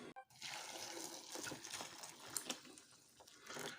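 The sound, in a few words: water being added to curry base in pan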